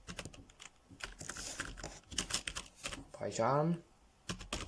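Computer keyboard typing in short bursts of key clicks while someone searches for a Python IDE, heard under a man's ongoing instructional speech.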